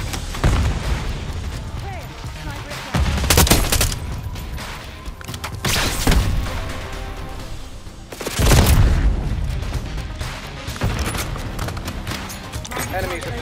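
A frag grenade thrown in Call of Duty multiplayer sets off heavy booming explosions amid bursts of gunfire, loud and recurring every few seconds, with game voices speaking between them.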